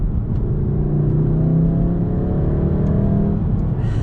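Revving VW MK7 Golf R in race mode with the sound imposer on, a loud, close, continuous engine drone whose layered tones climb and sweep, with a few faint clicks near the end.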